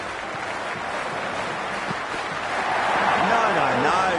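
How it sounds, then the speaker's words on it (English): Cricket crowd at a match before the first ball is bowled, a dense, continuous roar of cheering and noise from a large stadium audience, with a commentator's voice partly audible over it. "The crowd are making a heck of a lot of noise even before the first ball's been bowled."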